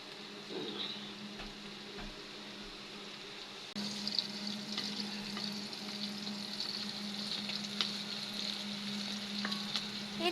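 Garlic and fresh and dried chillies fry in mustard oil in a wok, a steady close sizzle that grows louder and denser partway through as more oil goes in, with occasional crackles and spatters.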